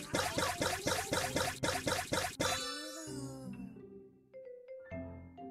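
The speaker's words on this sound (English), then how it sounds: "Shake the bottle to mix it well." Cartoonish rapid rattling of a baby bottle being shaken to mix milk powder with warm water in a children's video game, a rhythmic burst of about eight quick shakes, then soft tinkling chimes and bright game tones.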